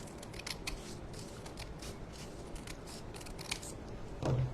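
Scissors trim paper for handmade paper roses: a steady run of quick, close snipping cuts over a faint background hiss, ending with a louder rustle of handled paper.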